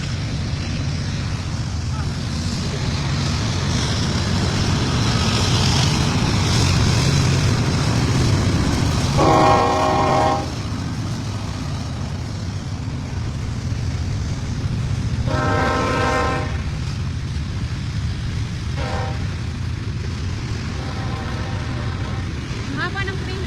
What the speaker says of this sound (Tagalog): Ayun, may train.